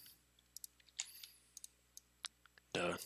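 Sparse, separate key taps on a computer keyboard while entering x86 machine code: quiet, close clicks spread irregularly, then a short louder burst of sound at the end.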